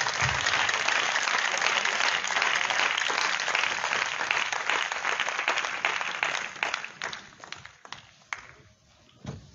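A church congregation bursts into loud, dense applause in acclaim of the Lord Jesus, then thins into scattered claps and fades toward the end.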